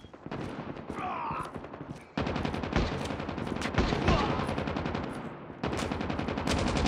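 Fast automatic weapon fire in Call of Duty Mobile, loud continuous bursts of rattling shots broken by short pauses, with game effects mixed in.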